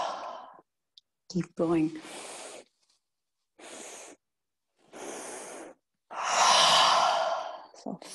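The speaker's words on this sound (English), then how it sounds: "Inhale a third, a third, a third, and then exhale." Yoga breathing in a class, a series of deep, airy inhales and exhales in separate bursts, the final exhale long and full, close to the mic, with a brief spoken instruction in between.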